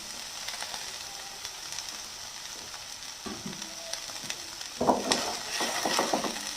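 Chopped yellow and red bell peppers, green capsicum and green chillies stir-fried in a pan: a soft, even sizzle that grows busier toward the end with scraping and stirring clatter.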